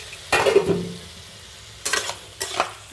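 Fried cauliflower and potatoes stirred into a simmering fish curry, three separate scraping strokes of a spoon in the pan, each a short rasp over a quiet bubbling background.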